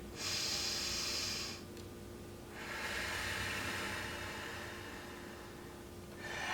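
Slow, deep breaths close to the microphone, a long airy inhale and exhale repeating, with steady background hiss and no talking.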